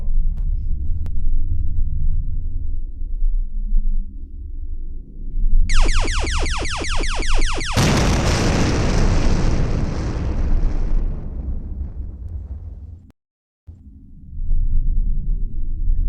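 A home blown apart by a blast, with a rising whine that leads into a loud broadband explosion, a long rumbling roar that decays, and a short silence before low ambience resumes.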